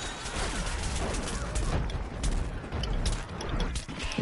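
Butter Barrage attack in Plants vs Zombies Garden Warfare 2, a continuous clatter of impacts and booms with mechanical noise, steady and fairly loud throughout.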